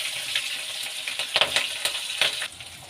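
Garlic, ginger and green chilies fry with cumin and mustard seeds in hot oil for soya burji rice, giving a close, crackling sizzle with quick popping bursts and the scrape of stirring.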